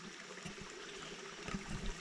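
A small stream flows along a valley on a hiking trail in New Caledonia, giving a soft, steady trickle and gurgle with a few brief splashes, heard alone at low volume.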